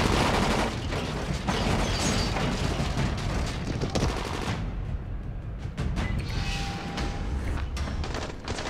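Bursts of rapid gunfire and heavy thuds fill a Dying Light video game battle, dense and loud at first, then thinning into scattered shots and clanks.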